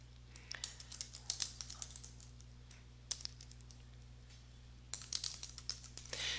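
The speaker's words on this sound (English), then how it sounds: "I can just start typing" Bursts of quick keyboard typing, close and fairly quiet, with short pauses between runs of keystrokes and a faint steady hum underneath.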